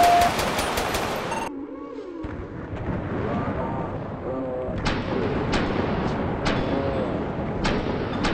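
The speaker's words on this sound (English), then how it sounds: "Shots fired! Shots fired, dispatch, shots fired." Gunfire in GTA V during a police patrol shootout, with a burst of sharp broadband shots at the start, then a series of regularly spaced loud shots under continuous game noise.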